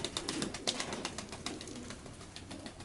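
Pigeons in a loft coo softly and continuously, a faint, close murmur with a few louder flutters and clicks mixed in and no talking.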